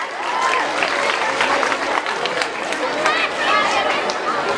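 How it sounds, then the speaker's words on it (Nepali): An audience at a school Saraswati Puja honour ceremony applauds steadily, with sustained clapping mixed with crowd chatter and voices talking over it, fairly loud and continuous. "कृपया ताली बजाइदिनु होला।"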